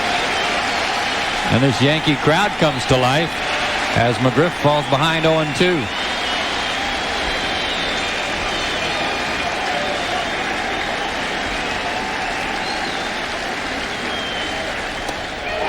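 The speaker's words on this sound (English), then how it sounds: "this Yankee crowd comes to life" Baseball crowd at Yankee Stadium during a 1997 Yankees versus Braves game, a steady roar of cheering and applause throughout, with a commentator speaking over it early on.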